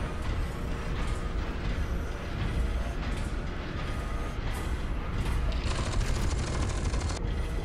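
Dense, continuous gunfire and mechanical rumble in the PC shooter F.E.A.R. 2 while piloting a mech, loud rapid bursts blending into a constant roar with a harsh hiss toward the end.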